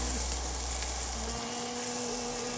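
Onions sautéing in a pan until translucent give a continuous, even sizzle close by, with a low hum beneath it.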